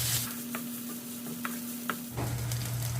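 Penne pasta sauce with a spoonful of tomato paste being stirred in a pan, soft scraping strokes with a few distinct clicks over steady sizzling and a low hum that drops out midway, no voices.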